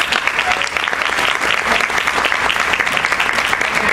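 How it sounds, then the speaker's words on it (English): Sustained audience applause at a SAAPHI 25th anniversary celebration panel, a dense, steady wash of many hands clapping at close range, loud and continuous throughout with no break. "So if everyone can just join me in giving another round of applause."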